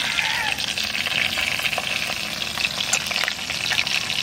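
Crab cooked with spices sizzles and fries steadily on a tawa, with a constant close crackle, small pops, and occasional stirring scrapes.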